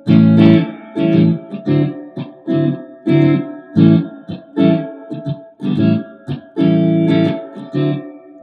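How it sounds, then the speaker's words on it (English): An electric guitar plays a series of chords drenched in heavy reverb, each strum ringing out boomy and loud with a lingering wash. "if I turn that reverb up even more, it gets really boomy"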